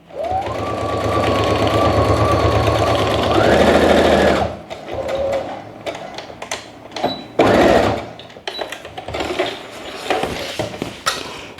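A sewing machine stitches a cork tote bag, running in a loud whirring burst that rises in speed, then breaking into intermittent short stitching runs, clicks and handling noises.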